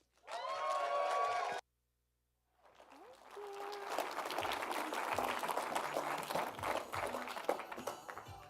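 A conference audience at Epic Web Conf 2024 applauds speaker Saran Yitbarek: a short tonal sound stops, a brief silence follows, then a broad wash of clapping rises and holds to the end.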